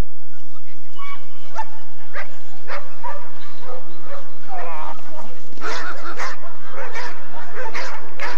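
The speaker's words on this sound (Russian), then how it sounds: "Посмотрите, как собака стремится к своей цели." A dog barks and yips repeatedly while attacking during a working-dog ring competition, sharp bursts coming in an irregular rhythm and growing denser toward the end, fairly close and loud, with no talk over them.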